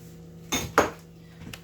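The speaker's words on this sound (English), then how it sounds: "I'm gonna add a serving of green peas, a serving of lentils" Two quick clinks of a spoon against a casserole dish as servings of green peas and lentils go into a tuna casserole, close and fairly loud, then quiet.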